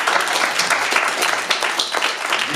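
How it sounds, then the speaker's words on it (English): Studio audience applauding three election candidates, a steady dense wash of clapping filling the whole stretch at close range. "Round of applause for our three candidates."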